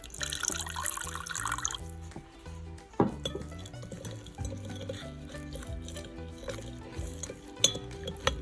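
Water added to a guinea fowl tajine being stirred in a pot, with steady scraping and clinking of a utensil against the cookware, close and continuous with a sharper knock partway through.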